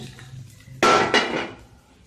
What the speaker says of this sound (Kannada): ಕುಕ್ಕರ್ ಹಾಕಿ ಕುಕ್ಕರ್ ಇಟ್ಕೊಂಡು ಆ ಕುಕ್ಕರ್ಗೆ ಇದನ್ನೆಲ್ಲ ಹಾಕ್ಕೊಳ್ಳೋಣ